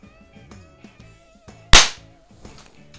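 A .177 pellet gun fires a used small pistol or rifle primer, giving a single sharp loud crack that rings out briefly against quiet room background, with no talk.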